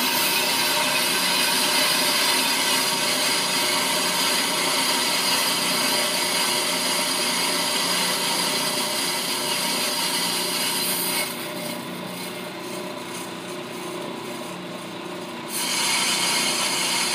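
Brake lathe machining a brake drum, with the cutting tool fed toward the inside of the drum: a steady, loud grinding and scraping hum that runs continuously, dipping slightly near the end before returning, with no talk.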